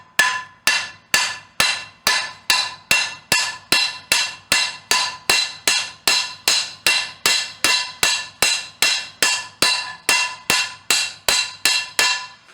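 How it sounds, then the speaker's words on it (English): A hammer strikes a rivet on the handle of a hand-forged steel skillet, around thirty sharp metallic blows at a steady, even rhythm, each ringing briefly before the next, with no talking. "And now we start hammering."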